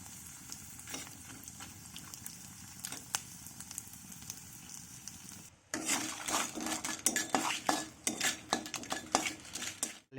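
Homemade potato papad sizzles in hot oil, quiet clinks of utensils at first, then a sudden louder burst of bubbling and crackling frying with stirring scrapes, close and without talk.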